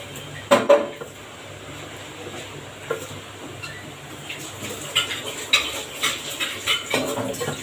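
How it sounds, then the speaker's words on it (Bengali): A metal lid set onto a cooking pot of greens in a home kitchen, with a clattering clank at the start followed by scattered lighter metallic knocks and scrapes over a low steady hum. "এখন আমি ঢাকা দিয়ে দিব।"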